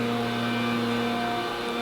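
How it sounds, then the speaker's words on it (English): A steady, droning motor hum from hedge cutting outside down the road, heard at a distance as a continuous tonal whine with no breaks. "they're cutting hedges down the road"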